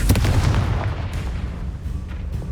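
A Confringo explosion spell bursts in the Hogwarts Legacy video game, a loud, close, booming blast that rumbles and slowly fades over a couple of seconds.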